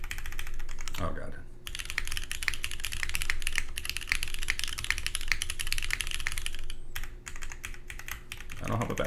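Dense, rapid clacking of keys on an OC-62 mechanical keyboard fitted with KKB keycaps, close and steady for most of the stretch, with brief pauses and faint talk near the start.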